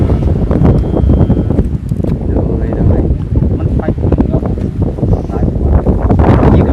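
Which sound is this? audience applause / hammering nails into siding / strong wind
strong wind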